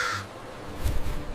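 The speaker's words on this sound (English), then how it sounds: "It's a crow." A crow gives a single short, harsh caw near the end of the clip, close and fairly loud. A brief sound comes just before it, and there is no speech.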